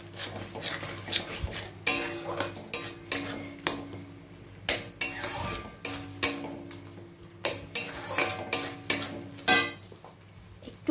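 Spoon clinks and scrapes against a pan as vegetables are stirred and sautéed for a vegetarian potol (pointed gourd) dish, irregular taps and scrapes every second or so over a faint steady background.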